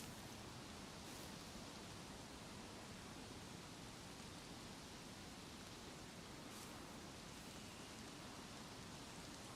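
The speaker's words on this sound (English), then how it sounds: "Oh, it's starting to rain, man." Rain falling in the survival video game DayZ, a steady, even hiss of rainfall with no break, quiet and continuous with no voices over it.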